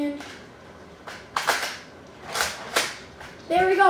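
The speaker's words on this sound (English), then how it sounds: "We got the gun reloaded." A large toy Nerf rifle bought at Target is reloaded, giving several sharp plastic clicks and snaps close by, with a brief voice at the end.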